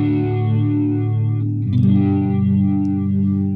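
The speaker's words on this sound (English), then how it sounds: "it produces the effect like the sound of a rotary speaker. Like a speaker spinning around." Electric guitar through a Boss Katana MkII amp with a rotary speaker modulation effect: sustained distorted chords swirl and waver with a chorus-like wobble, loud and close, one chord change midway, no talk.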